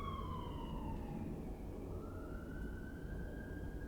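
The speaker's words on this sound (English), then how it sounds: "And that's a police car." A police car siren wails across the whole stretch, its rising and falling tone sweeping steadily over a constant low rumble of traffic, heard at moderate distance with no talking.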